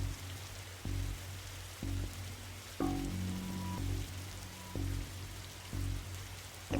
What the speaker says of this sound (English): whenever standing in this rain stops being fun for you